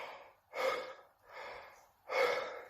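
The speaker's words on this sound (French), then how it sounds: "il existe aussi la respiration thoracique, donc c'est-à-dire que nous allons gonfler notre thorax," Demonstration of thoracic chest breathing: two forceful audible inhalations, each followed by a softer exhale, in a slow, even rhythm close to the listener, with no other sound.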